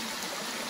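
Spring water pouring steadily down a small artificial waterfall at the end of a micro hydro penstock, a brief, soft, constant rushing trickle heard on its own.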